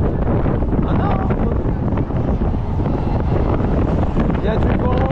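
Wind gusting at an amusement park roars steadily and loudly across the microphone, a continuous broad rush with no pauses, muffling any other sounds.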